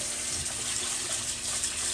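Tap water runs in a steady, full gush into a sink while rice is rinsed clean, close and continuous with no speech.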